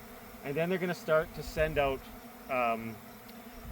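A swarm of honeybees that has left its hive and is clustering around the queen keeps up a low, steady buzz beneath people talking nearby.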